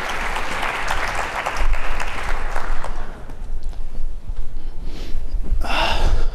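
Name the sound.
audience applause for the mayor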